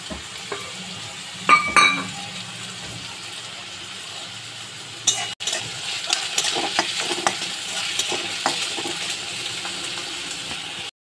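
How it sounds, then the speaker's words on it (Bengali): Chopped onions fry in a pan and are stirred, with a steady close sizzle and scraping strokes from the spoon that rise in a few louder bursts. "পেঁয়াজটা আমার ভাজা ভাজা হয়ে গেছে"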